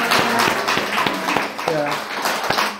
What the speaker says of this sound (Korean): 우리 두 분 우리 박수로 우리 환영하겠습니다.